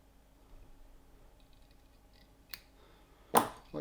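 Scissors trimming fly-tying fibers, two short sharp metallic snips close by, the second louder, after a quiet stretch with no speech.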